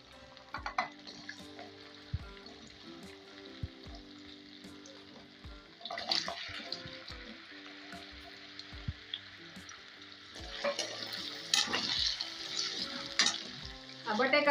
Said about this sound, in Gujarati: તો ત્યાર પછી આપણે બટેકા અને સુરણ છે એને તળી નાખશું.